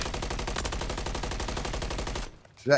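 Sustained automatic rifle fire from a Call of Duty: Modern Warfare III competitive match, a rapid unbroken burst lasting about two seconds before cutting off, followed by a brief other game sound.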